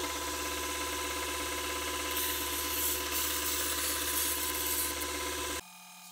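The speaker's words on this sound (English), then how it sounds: "I have this little sander." A small sander bevels the back edge of a wooden part for an HMS Victory model ship, giving a steady, close mechanical whir that holds evenly before cutting off near the end.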